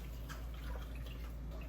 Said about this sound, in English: So now we'll pour the bone broth in